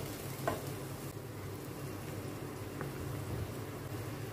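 Chicken sizzling and frying in a pan with vinegar, soy sauce and chili sauce, a steady close hiss broken by a couple of faint stirring scrapes, no voices.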